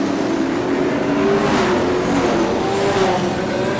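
European late model stock cars roar around the track during a 75-lap endurance race before a huge crowd, a dense, steady engine drone with rising revs and passing cars, loud and continuous with no talk.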